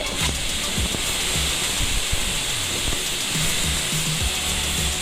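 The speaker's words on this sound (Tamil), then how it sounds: "விசில் வந்துடுச்சு." A loud, continuous steamy hiss of a pressure cooker whistle while cooking coconut milk biryani, with low clunking sounds beneath.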